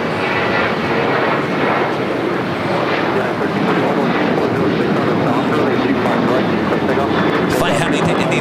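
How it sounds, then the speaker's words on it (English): An American Airlines Boeing 737-800 at LAX, a loud continuous jet engine roar with broadband rushing noise, steady and close, as a person talks over it. "Flight heading to Indianapolis, Indiana. American Airlines flight 1437, 737-800."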